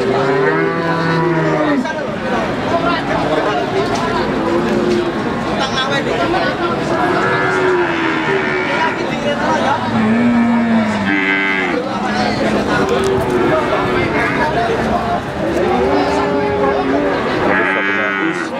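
Cattle at the Wirosari cattle market in Indonesia moo loudly and repeatedly, several long lowing calls spread across the whole stretch over a steady backdrop of crowd chatter and market bustle.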